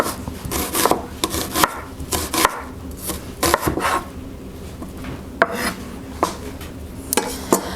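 A knife chops onions on a cutting board in a home kitchen, with repeated close, irregular thuds and scraping strokes and no voices.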